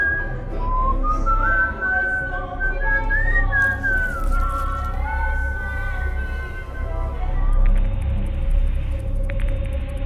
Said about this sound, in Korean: 이 작업이 즐거운 듯 휘파람까지 불며 열중합니다